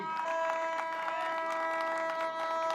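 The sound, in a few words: audience applause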